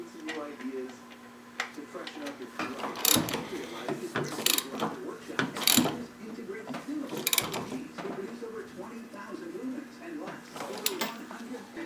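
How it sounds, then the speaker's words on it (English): Tools click and ratchet in short irregular bursts while power steering hose fittings with O-rings are wound in and tightened, the metallic ticks landing close and scattered. "take the fittings, make sure your O-ring's on there, and basically wind them into the hole and tighten them down"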